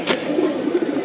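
A black-necked tournament racing pigeon gives a short, close, throaty coo that rolls for about a second.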